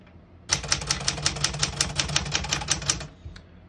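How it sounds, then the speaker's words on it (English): A 1972 Smith-Corona Sterling portable typewriter being typed on, a quick even run of about twenty crisp key strikes close up, ending with a single lighter tap after a short pause. "As you can see, all the keys type nice and none of them skip or stick"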